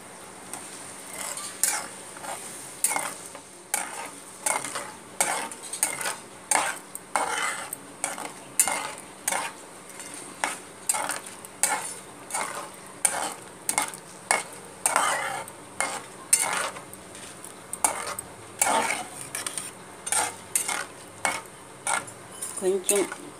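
Tamarind rice, pulihora, being stirred in a pan with a spoon, giving a long run of regular scraping and clinking strokes roughly every second, close and moderately loud over a faint sizzle.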